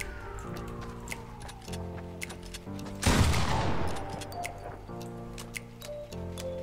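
A single gunshot burst in the Fortnite battle royale game, sharp and loud over steady game music with dripping, squishy effects, followed by a decaying rumble.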